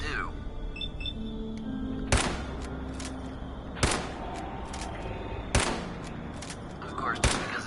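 Rifle shots in Fallout 4's Far Harbor, four sharp, loud reports spaced about two seconds apart over a low game ambience.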